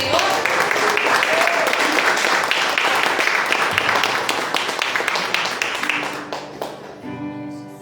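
A church congregation applauds with dense, sustained clapping that gradually thins and fades, mixed with voices speaking over it.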